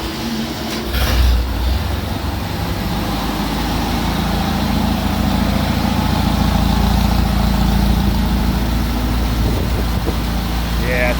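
A Fordoyner Joyner with a swapped engine idles steadily after firing up, a continuous low rumbling drone held close and loud throughout, with a brief louder burst near the start.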